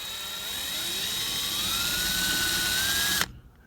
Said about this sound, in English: I got my 13/64 drill bit in the drill